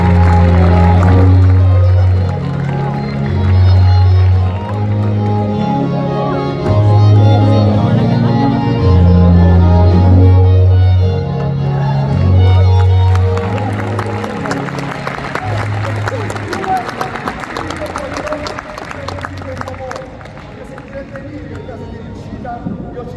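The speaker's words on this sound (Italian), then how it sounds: "Fategli un applauso e scendi pure." Circus audience applauding a performer, broad clapping and crowd noise that swells in the second half while music with a pulsing low bass line plays and a presenter speaks over it.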